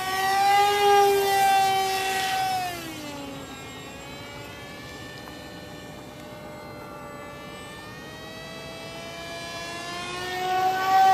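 A radio-controlled Icon A5 model airplane flies overhead, its electric motor a steady high whine whose pitch bends up and down as it passes. It is louder at the start and end and fainter in the middle, with no talking.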